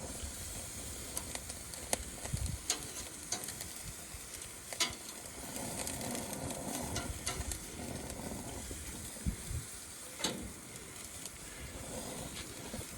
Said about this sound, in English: So yeah, just searing nicely there.